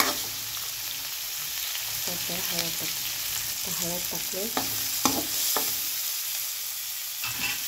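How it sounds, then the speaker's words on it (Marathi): Cumin, mustard seeds and green chillies fry in hot tempering oil, giving a steady close sizzle broken by scraping stirs and light clicks. A quiet voice speaks briefly. "तर फोडणी घालायला जिरा मोहरी टाकले."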